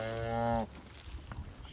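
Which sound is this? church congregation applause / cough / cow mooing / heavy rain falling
cow mooing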